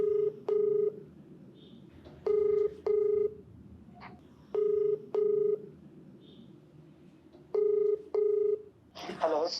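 Several short bursts of dual-tone telephone keypad beeps in pairs and triplets, placing a call, clear and steady over a faint background hum, ending with a brief rustle.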